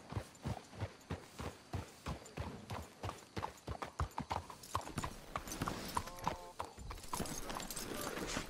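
Rhythmic clip-clop of horse hooves on a hard surface in the video game Red Dead Redemption 2, steady and fairly close, with a horse whinnying briefly near the end.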